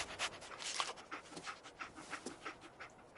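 A dog companion in the video game Fallout 4 pants close by in quick, rhythmic breaths, a steady run of soft huffs at moderate volume with no talk over it.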